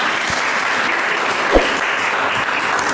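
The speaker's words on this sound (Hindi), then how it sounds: "जो हमारी ऑडियंस है तालियां बजा करके इस बात को शो करने की कोशिश कर रही है" Steady, loud audience applause at a motivational teachers' program, continuous dense clapping with no talk over it.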